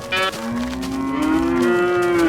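An early Minecraft cow lets out a single long, loud moo with a rising, wavering pitch that is close and alone.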